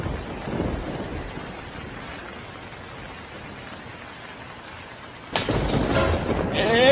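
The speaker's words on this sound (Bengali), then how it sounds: "তারপরে আবার এই বৃষ্টি, এইভাবে হয় নাকি?" Steady, diffuse patter of rain, then a sudden louder, harsher burst of heavier downpour or splashing near the end. No voices.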